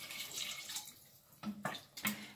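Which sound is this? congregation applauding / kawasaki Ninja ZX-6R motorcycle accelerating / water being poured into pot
water being poured into pot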